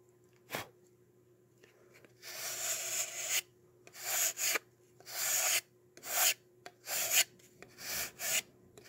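Sandpaper rasps along the edge of a balsa wood model airplane wing in about eight slow, separate strokes, each a close, dry scraping burst with short quiet pauses between.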